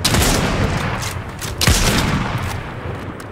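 Gunfire in the video game Fortnite, a dense rattling burst of shots over a loud rumbling bed, with one sharper crack standing out midway, close and continuous without talk.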